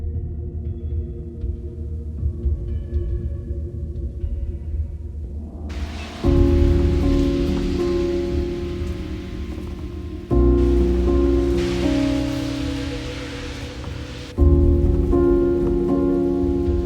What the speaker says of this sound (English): The thunder is rolling in the hills. Rain is splattering onto the porch